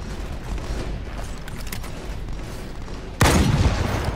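A single loud sniper rifle shot in the Halo video game erupts sharply after a stretch of steady background game noise, then rings out with a dense, booming tail.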